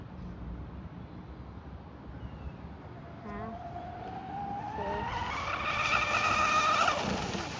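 A Proboat Black Jack 26 RC boat on a 3s battery is pushed to full throttle on a windy day, its motor whine rising steadily in pitch and growing louder over steady wind noise before easing off at the end.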